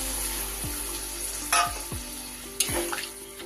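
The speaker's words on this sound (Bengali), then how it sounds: "এবার দিয়ে দিচ্ছি আমি জল।" Water is poured into a pan of potatoes and spices frying for an egg curry, the steady sizzle jumping into two sharp, hissing bursts before settling back.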